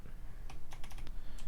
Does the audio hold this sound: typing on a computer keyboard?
yes